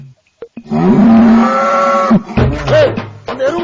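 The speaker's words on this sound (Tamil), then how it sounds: "எருமாடு கத்தும் போது" A buffalo bellows loudly and up close in a long drawn-out moo, followed by shorter lowing calls, with no talk over it.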